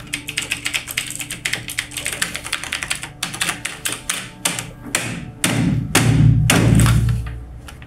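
Rapid clattering keystrokes on a computer keyboard, close and loud, growing into heavier thumping strokes and harder key slams toward the end.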